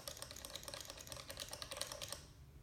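A tap tempo footswitch on a guitar pedalboard is clicked rapidly, a quick run of faint, evenly spaced taps lasting about two seconds before stopping.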